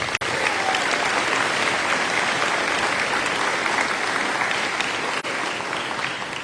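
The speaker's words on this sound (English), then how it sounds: "let's give them a round of applause" An audience at a high school athletic banquet claps steadily, a dense, sustained wash of applause from a crowd indoors that holds its level throughout.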